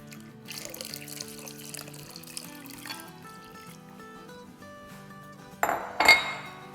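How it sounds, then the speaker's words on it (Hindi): Four cups of cold water are poured into an aam pana mango drink, a brief splashing gush with a clink near the end, heard under continuous background music. "और इसमें आप डालेंगे 4 कप ठंडा पानी।"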